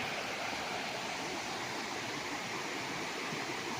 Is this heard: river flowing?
yes